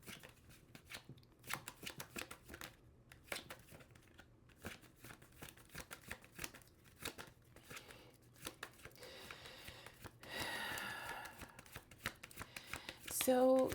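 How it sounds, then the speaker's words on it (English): Rapid riffling tarot card shuffles come in short bursts with soft taps between them, close and moderately loud, ending in a louder flurry near the end. "We're going to do one last shuffle."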